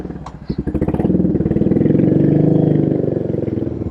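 A custom Royal Enfield RE 350 motorcycle with a big curved exhaust pipe revs up and holds a loud, steady, throbbing exhaust note close by for several seconds.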